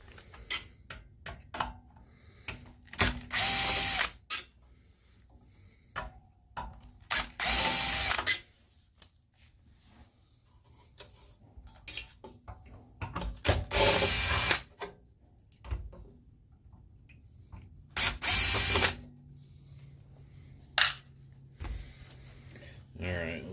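Screws being backed out of the heat sink on a SpeakerCraft BB1235 12-channel amplifier under repair, heard as close, intermittent bursts of ratcheting, clicking metal with quieter handling noise and some talk between them.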